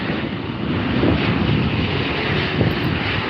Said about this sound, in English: Aero Mexico, the first one from them today.